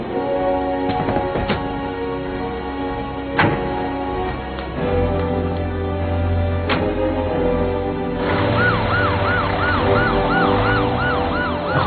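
An ambulance siren in an animated show wails loudly and continuously, its pitch sweeping up and down in a fast yelp near the end, with traffic rumble underneath.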